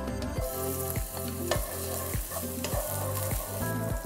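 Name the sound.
shallots and garlic frying in hot oil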